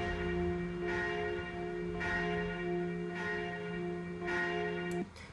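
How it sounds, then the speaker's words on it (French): A single church bell in Haute-Savoie or Savoie swinging in full flight for Mass, striking about every 1.2 seconds in an even rhythm, each stroke ringing on over a steady hum until it stops near the end. "la messe, sur 4 cloches par exemple, ça va être volé de la cloche 1 en solo"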